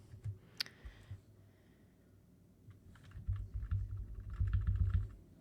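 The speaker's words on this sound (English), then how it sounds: "I actually used my arrow keys to get down there past the table" Arrow keys tapped on a computer keyboard while working in Google Docs, a few scattered clicks first, then a denser run of quick, soft presses toward the end. The taps are close and quiet, with no voice over them.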